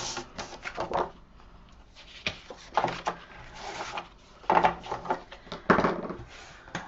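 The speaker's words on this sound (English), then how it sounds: "With the 7 inch side at the top, we're going to score at 1/2 inch." Paper for a frame album is scored by hand, producing close, intermittent dry scraping and rubbing strokes in short bursts, with no one talking.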